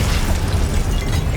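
Confringo explosion spell cast in the Hogwarts Legacy video game, a dense, continuous blasting roar with heavy low rumble, loud and steady throughout with no talk over it.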